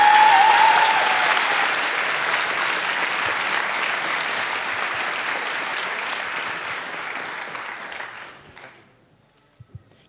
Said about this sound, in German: nochmal bitte einen kräftigen Applaus